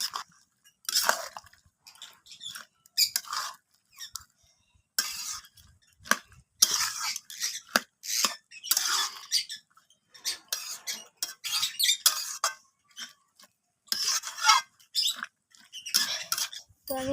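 Irregular scraping and clinking of a spoon stirring bottle gourd with turmeric and water in a pot, in short bursts separated by quiet pauses, close and moderately loud.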